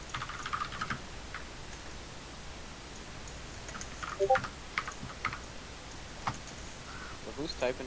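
Loud mechanical computer keyboard clattering during a zombie game tournament, sparse irregular key clicks and short bursts of typing heard faintly at a distance under soft background sound.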